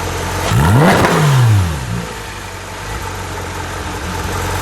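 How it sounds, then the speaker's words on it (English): A 2016 Porsche 911 GT3 RS gives one sharp rev from idle: the engine note climbs quickly, hangs briefly and falls back to a steady, close, rumbling idle. "Give me one rev, please."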